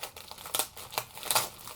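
Close crinkling of plastic packaging in a few short bursts, crackly and uneven, with quiet pauses between.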